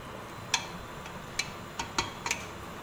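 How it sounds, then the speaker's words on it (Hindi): Spoon clinking against a pan while spices are stirred into beef, several sharp metallic taps spaced irregularly over about three seconds, close and fairly quiet against a low steady background hum. "इन सभी मसालों को मैं अच्छी तरीके से मिक्स कर रही हूँ।"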